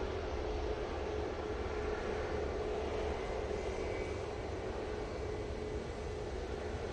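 A Jet2 Boeing 737 departs Manchester Airport for Antalya, its engines giving a steady, moderately distant roar that stays even throughout with no voices.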